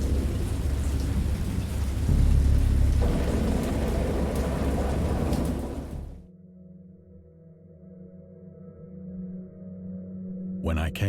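A heavy thunderstorm with steady pouring rain and deep rolling thunder plays as a sound effect in an audiobook reading of a horror story. It cuts abruptly to a quieter low hum partway through.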